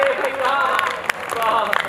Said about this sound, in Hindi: अब बजेगी ताली।